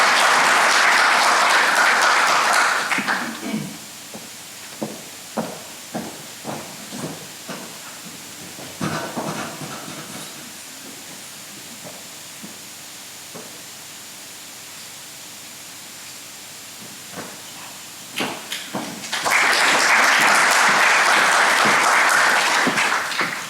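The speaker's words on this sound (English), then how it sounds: "a round of applause for the Modern Art Museum" Audience applause at an architecture awards ceremony, a loud sustained burst of many hands clapping at the start, fading to scattered claps, then another full, loud round rising near the end.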